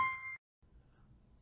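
A brief electronic tone from a scan-to-spreadsheet app as a row is saved, cutting off sharply after a fraction of a second and leaving quiet room noise.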